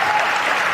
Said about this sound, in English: So the crowd is clapping for Tulsi.